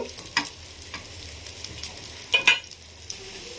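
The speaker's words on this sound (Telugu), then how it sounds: "చూసారు కదా, ఇలానే మిగిలిన పీసెస్ని కూడా మనం ఫ్రై చేసుకోవాలి." Fish pieces frying in a pan, a steady low sizzle of hot oil with intermittent stirring scrapes and clinks, close and moderately quiet.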